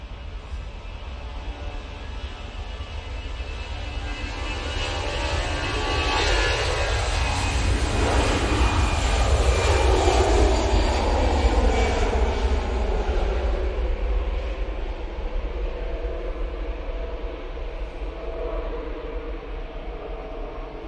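An EasyJet airliner departs for Belfast from Manchester Airport, its jet roar building steadily and sweeping past with a falling whine, then lingering as a broad rumble as it climbs away.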